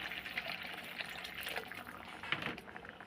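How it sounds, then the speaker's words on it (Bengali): A small amount of water poured into a pan of potatoes cooking for a duck egg curry, a soft splashing trickle that runs steadily for a few seconds, quiet and close. "এই অল্প একটু জল দেব,"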